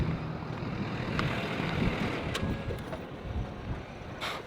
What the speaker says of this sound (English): Yeah, it's pretty windy.